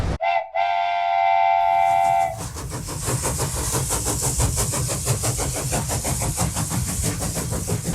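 An Amtrak train bound from Minneapolis/St. Paul to Chicago sounds a loud, sustained multi-tone horn, then its wheels settle into a steady rhythmic clatter with engine rumble close by.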